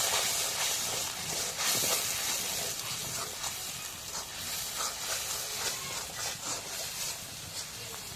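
Garlic paste is stirred in a hot pan, giving a faint, steady hiss and sizzle with soft scraping throughout, and no one speaking.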